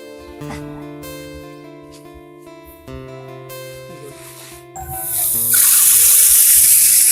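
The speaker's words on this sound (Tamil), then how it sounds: "நாங்க வாத்தியசனுக்கு கொட்டிட்டு தண்ணிக்கு போட்டு ஊற வைக்க போறோம்" Paddy rice poured into water to soak, a steady tonal hum at first, then a loud, bright rushing gush of grain and water taking over in the last seconds.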